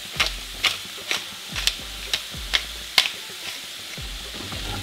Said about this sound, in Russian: Лучок поджарится.